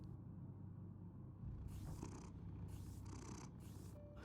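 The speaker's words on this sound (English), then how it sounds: "Kitty cat. Oh, look who's back." A cat purrs in the Batman Telltale Series video game, a steady low rumble with faint airy breaths over a quiet background.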